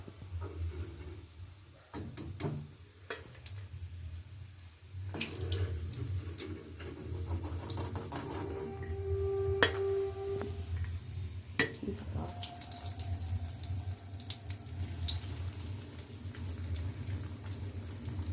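Vegetable chops deep-frying in hot oil in a home Bengali kitchen, a low steady sizzle and bubbling running throughout with scattered clicks and clatters of utensils.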